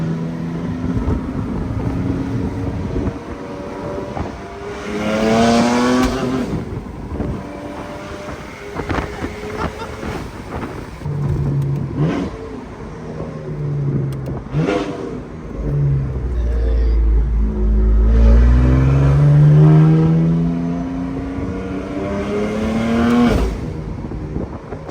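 A 1,000 hp BMW M4 engine revs hard from inside the car in repeated rising, roaring sweeps, loud and close, with wind rush and occasional voices from the occupants.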